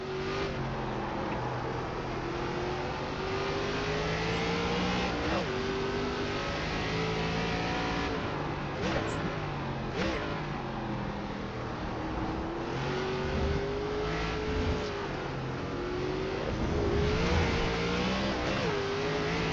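ARCA race cars roar around Lime Rock in the iRacing sim, several engines droning and revving continuously at close range, pitches rising and falling as cars shift and jostle in traffic.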